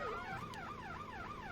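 In Farming Simulator 17, a fire-rescue medic emergency vehicle's siren wails in fast rising and falling sweeps that repeat in a steady cycle, fairly faint and with no voices over it.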